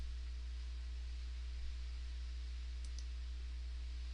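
Computer mouse clicks while routing copper traces on a circuit board layout: a couple of faint, quick clicks close together, set against a steady low electrical hum in a quiet room.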